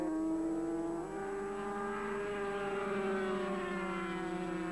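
Yamaha and Honda 250cc motorcycles race on a warm, dry circuit in 1985, their engines a loud, continuous, high-pitched whine whose pitch slides and shifts as the bikes pass, with no voices.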